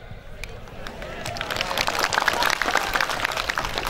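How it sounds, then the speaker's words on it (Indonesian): Crowd applause builds and holds steady at a new-student orientation opening at Universitas Tadulako in Palu, a dense wash of many hands clapping that grows louder partway through, with some voices mixed in. "Terima kasih yang tepuk tangan."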